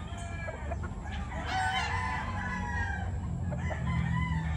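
A Roundhead gamefowl rooster crows in a long, loud call and clucks nearby, over a steady background hum.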